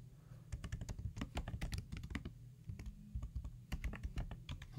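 Rapid, uneven clicking of computer keyboard keys, close and steady, with short pauses between bursts and no speech.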